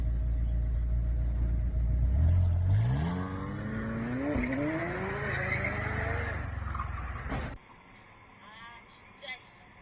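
A McLaren and an Audi R8 roar as an engine revs up sharply with rising pitch, then a sudden loud impact cuts the sound to near quiet, followed by a faint trailing noise.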